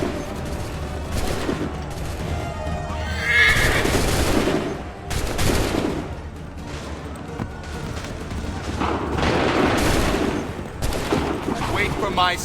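Repeated musket volleys crackle in Assassin's Creed III, ragged bursts of gunfire in several waves across a battlefield, loud and close, with a horse whinnying and shouts mixed among the shots.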